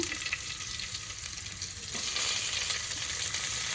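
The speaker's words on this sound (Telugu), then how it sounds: "కరివేపాకు వేసి ఆనియన్ కూడా వేసేసుకుంటున్నాను." Curry leaves and onion dropped into hot oil in a pan: a close, continuous sizzle that jumps noticeably louder midway and keeps crackling alone.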